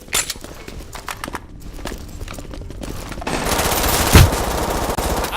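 Rapid bursts of automatic gunfire rattle in the Ark video game, with several loud volleys and a sharp closer impact near the end, layered over busy game sounds and no talking.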